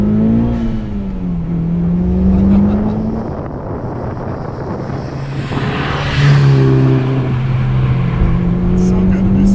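Modified 2001 Mitsubishi Evolution VII engine heard from inside, revving up through gears with surging pitch sweeps and a second loud acceleration pull, with voices talking over it.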